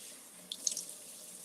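A kitchen tap runs water into a tablespoon measuring spoon, a faint splashing trickle with a few brief louder splashes midway before settling back to a soft steady flow.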